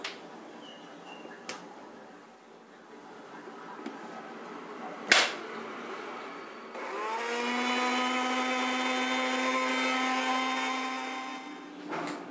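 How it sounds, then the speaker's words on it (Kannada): A kitchen mixer grinder blending quartered tomatoes without any water: a few knocks and clunks, then a loud, steady whining motor hum that runs continuously for several seconds before cutting off. "ಟೊಮ್ಯಾಟೋನ ಒಂದು ಡ್ರಾಪು ನೀರು ಹಾಕ್ದೇ ಗ್ರೈಂಡ್ ಮಾಡ್ಕೊಂಡಿದ್ದೀನಿ"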